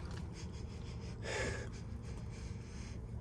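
A person sniffs the interior of a used 2020 VW Atlas with 144,000 miles, one brief sharp inhale standing out in the middle against a quiet background.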